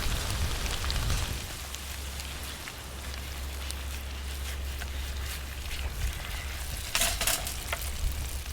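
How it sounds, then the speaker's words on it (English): Oil sizzles hard under potato chips frying in a pan over a campfire outdoors, a dense, continuous crackle with a steady low rumble beneath it and occasional louder spits; no voices. "you can see the oil going nuts underneath the potato there"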